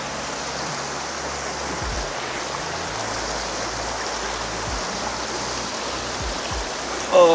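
Cold stream water flows in Switzerland with a steady, even rushing wash, close and continuous, with a few faint low thumps underneath and no talking.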